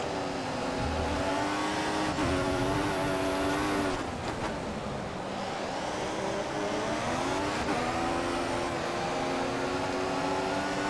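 Formula 1 race car engines in the F1 2014 game scream loudly through rising and falling revs, with shifts and a brief dip around the middle as the car races on without talk.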